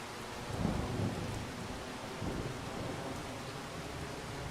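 Steady rain pours down in Farming Simulator 25 while low rumbles of thunder roll in twice, a constant hiss with no voices.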